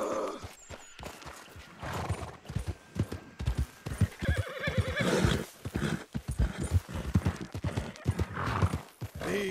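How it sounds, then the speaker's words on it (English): Horse hooves clip-clopping with repeated loud neighs and whinnies in the Red Dead Redemption II video game, the animal agitated and restless over a low background. "Damn horse, acting up on me, of all the times."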